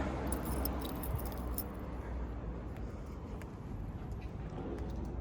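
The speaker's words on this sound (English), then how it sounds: "These are the keys they give us." Keys for a student accommodation in Dublin jangle close by in a steady, continuous rustle of metal for several seconds, with no talking over them.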